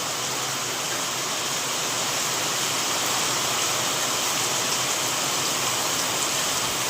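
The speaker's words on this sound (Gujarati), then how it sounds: "કાંઈ વરસાદ પડે છે" Heavy rain pouring down on farmland in a village, a dense, unbroken roar of drops that stays at the same level from start to finish with no voices.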